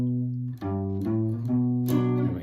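An intro picked on a 3-string cigar box guitar, a few plucked notes ringing out in a short, slow phrase, played quietly on its own.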